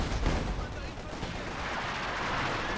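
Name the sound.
gunfire in Company of Heroes 2 video game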